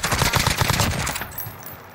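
Rapid automatic gunfire rattles in a Warzone match, a dense burst of shots for about a second that cuts off abruptly, followed by quiet game ambience.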